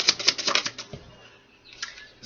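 Tarot cards are shuffled in a rapid, crisp flurry of riffling clicks, loud and close at first, then pausing before a brief second burst; no one speaks.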